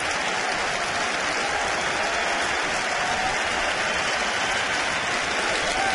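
A big crowd at a Kansas City versus Washington baseball game applauds, many of them standing, a steady, dense wash of clapping and crowd noise filling the stadium without a break.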